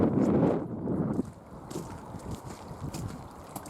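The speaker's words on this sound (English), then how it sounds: "I apologise for this wind" Wind buffets the microphone at a lakeside carp-fishing spot, a loud low rumble at first that eases into gustier, rattling noise.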